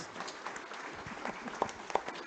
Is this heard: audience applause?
yes